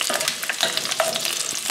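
Lamb meatballs and potato chunks browning in a pan on the stovetop, with a steady, close frying sizzle broken by scrapes and clatter as the pieces are stirred.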